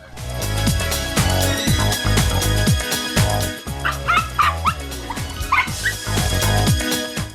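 Several dogs of various breeds at a dog-breeding farm bark and yip in short bursts, some higher-pitched and whining, mixed over loud background music.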